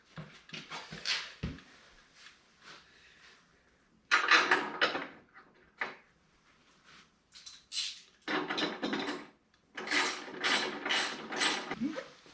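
Ratchet tightening a bolt while a motorcycle rear fender is fitted: bursts of rapid clicking come in separate runs with quiet gaps, up close and fairly faint, with some metallic handling noises in between.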